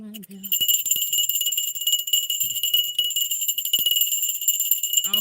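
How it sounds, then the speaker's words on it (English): A bell rung by hand gives a steady, ringing high tone that runs for about five seconds, loud and close, with a brief voice at the start. "Let me ring my bell real quick."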